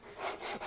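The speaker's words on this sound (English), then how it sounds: "it's easier in such a workshop to do our own sanding with the hand sander" A wooden instrument is sanded by hand with a hand sander held on a block in a workshop, making a brief, soft, breathy rasp of abrasive rubbing on wood.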